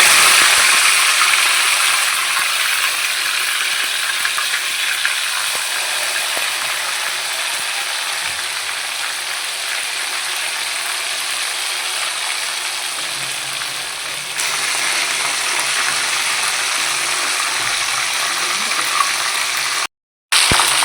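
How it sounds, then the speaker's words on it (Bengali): Chicken legs deep frying in hot oil, a steady broadband sizzle and crackle running nearly unbroken and close, easing slightly partway through with a brief dropout near the end, no talk. "একদম কড়া করে ভাজা হচ্ছে যেন খেয়ে মজা পাওয়া যায় শীতকালে একদম।"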